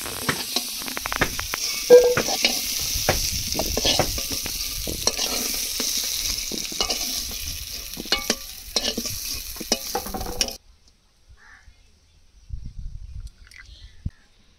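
Potatoes frying in mustard-oil in a kadai, a steady sizzle with stirring clatter and scraping for about ten seconds, then near silence with a few faint pan knocks; nobody speaks.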